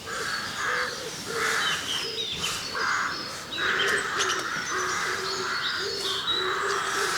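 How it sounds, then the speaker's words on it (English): A great tit calls repeatedly outdoors in rhythmic, rising-and-falling phrases, fairly close and clear, with other faint bird chirps scattered behind it and no talking. "It's a great tit over there calling."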